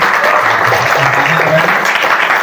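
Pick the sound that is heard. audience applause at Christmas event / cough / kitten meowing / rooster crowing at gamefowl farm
audience applause at Christmas event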